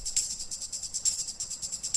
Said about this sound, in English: so now we have got this tambourine sound something like this